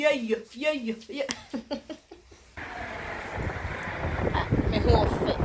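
A person talks briefly, then strong wind buffets the microphone in a loud, rushing roar that builds and gusts to the end.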